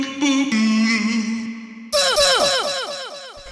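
A processed vocal sample in a minimal tech house track holds a long sung note, then breaks into a rapid stuttering run of chopped, pitch-falling syllables.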